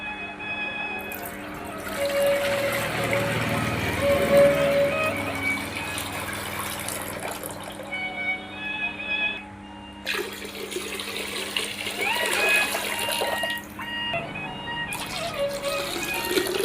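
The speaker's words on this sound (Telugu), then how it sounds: "మోతీచూర్ లడ్డుకి పాకం పెట్టడానికి నేను వాటర్ వేసానండి" Water poured into a pan to start sugar syrup for motichoor laddu, a close gushing stream running for long stretches with brief pauses between pours, no talking.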